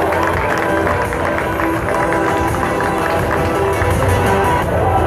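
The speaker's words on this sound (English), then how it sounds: "Give him a round of applause for that." A crowd at a cosplay stage show at a gaming festival applauds a costumed performer, with loud, dense, continuous clapping and some crowd noise filling the hall.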